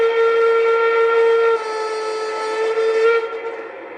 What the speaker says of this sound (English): F4 is a multi-tone whistle.